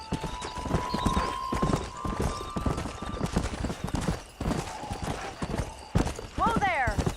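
Horse hooves in the Red Dead Redemption video game clip-clop in a quick galloping rhythm, joined by a neigh near the end, with game music tones and voices talking over them throughout.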